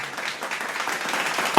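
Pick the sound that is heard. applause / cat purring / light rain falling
applause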